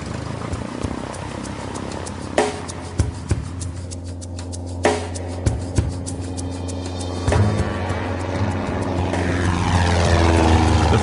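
A small propeller airplane flies from irrigated flatlands near Blythe toward low mountains, its engine a loud, steady droning roar from inside the cabin, broken by a few sharp clicks and knocks, with no talk.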